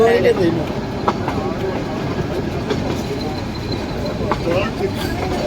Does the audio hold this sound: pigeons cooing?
no